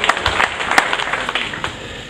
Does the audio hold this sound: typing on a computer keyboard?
no